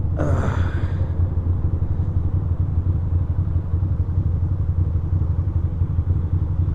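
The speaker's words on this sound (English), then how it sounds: "Little drag race with the Vespa, maybe." A Vespa scooter's engine rumbles in city traffic, a steady, close, loud drone with a brief sharper burst at the start.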